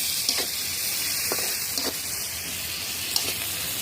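Chopped onions sizzle in hot oil in a wok, a steady close crackling hiss with occasional sharper pops and stirring clicks.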